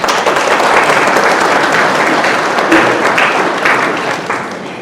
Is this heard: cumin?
no